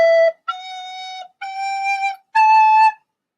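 Four tongued recorder notes rise stepwise, each cleanly separated by brief gaps of silence, bright and close-miked with no accompaniment.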